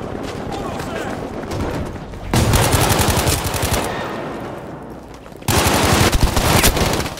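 Machine gun fire rattles in fast sustained bursts during a Battlefield V multiplayer match, loud and close, with two heavy volleys breaking in sharply over lighter shooting and a voice talking over the gunfire.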